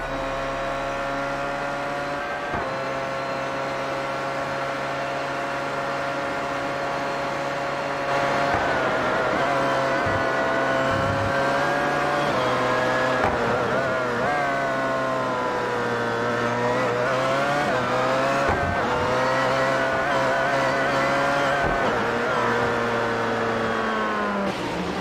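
An onboard race car engine at the Nurburgring in the iRacing video game, revving loudly and constantly with rising and falling pitch through upshifts and downshifts, alone without voices.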